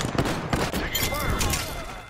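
Bursts of gunfire crackle in a video game firefight, rapid shots clustered over a couple of seconds with some thumps, fairly loud and close.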